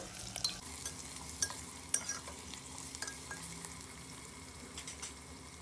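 Green chillies and sliced carrot fry in a pan. A soft, steady sizzle runs throughout, and faint scrapes and taps from stirring break through now and then. No voice is heard.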